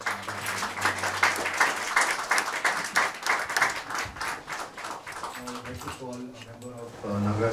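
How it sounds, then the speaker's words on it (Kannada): An audience applauds warmly after a Carnatic vocal concert. The dense clapping swells and then thins out as voices and tonal sounds take over toward the end. "ಈ ಅದ್ಭುತ ಕಚೇರಿಗೆ ನಮ್ಮೆಲ್ಲರ ಇನ್ನೊಂದ್ಸತಿ ಚಪ್ಪಾಳೆ ತಟ್ಟೋಣ."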